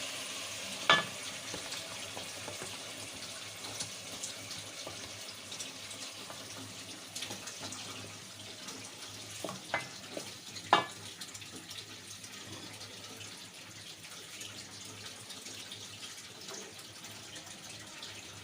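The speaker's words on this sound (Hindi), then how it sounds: "अब मैं इसमें डाल रही हूँ सरसों पिसी हुई।" Ground mustard paste dropped into a pan of browned crushed garlic for sarson saag, frying with a soft continuous sizzle and occasional sharp clicks and scrapes of a spoon, close but fairly quiet, with no talk.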